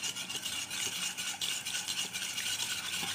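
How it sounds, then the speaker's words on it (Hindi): Egg and sugar being mixed in a bowl for pancake batter, a continuous rapid scraping and whisking of a utensil against the bowl, close and steady throughout with no voices. "इसको अच्छी तरह चीनी डाल के इसमें इसको मिक्स कर लेते हैं"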